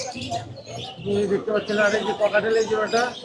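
Birds at a pet bird market in Mirpur chirp and coo in a dense, busy chorus, close and loud, with people talking among them.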